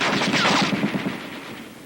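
Heavy machine guns fire in a World War 2 army training scene, a rapid burst of close, loud shots that rattles for about a second before fading into a rough tail.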